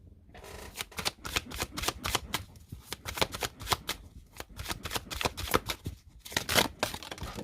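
Tarot of Dreams cards riffle-shuffled by hand in a steady run of quick, crisp bursts, close up and fairly loud with brief pauses between riffles; nobody speaks.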